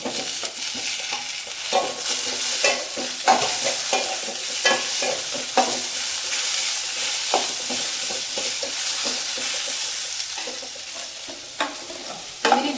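Onions sautéing in a pan for a tomato rice dish, a steady close sizzle broken by frequent scraping stirs and light clicks of the spoon against the pan, with no talking.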